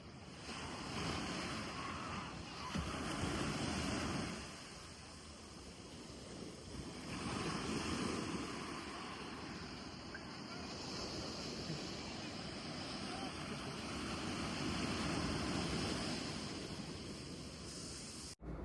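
Sea waves wash continuously onto RK Beach in Visakhapatnam, a steady broadband roar of surf with wind buffeting the microphone, swelling and easing slightly over the stretch with no one speaking.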